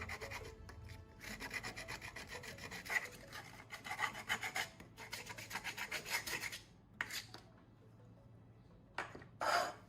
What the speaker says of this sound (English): I'll use sandpaper to smooth all the cut edges